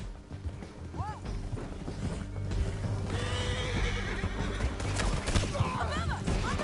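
Horses neigh loudly amid clattering hooves as riders flee down a canyon in Red Dead Redemption 2, with crashes, shouting voices and dense action noise around them.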